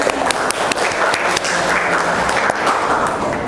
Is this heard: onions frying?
no